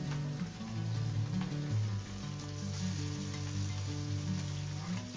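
Oil spits and crackles steadily in a pan as shivda fish fries, a dense continuous sizzle close up and loud, with no one speaking.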